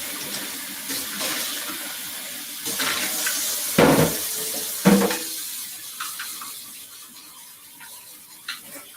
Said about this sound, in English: And rinse out my filter.